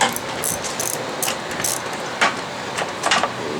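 Screws being backed out of a lawn mower's small engine, heard as a series of quick close ratcheting clicks in short bursts, several repeated turns with brief pauses between them.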